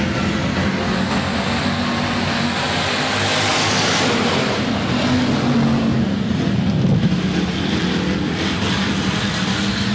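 Hobby stock race cars roar around the Rapid Speedway dirt oval as a heat race goes green, a dense, loud engine drone with rising and falling passes and no talk.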